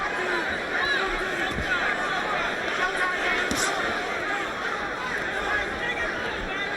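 Crowd noise in a boxing arena during the Roy Jones vs Antonio Tarver fight, a dense steady murmur of many voices with scattered shouts, heard throughout and mixed with nearby talk.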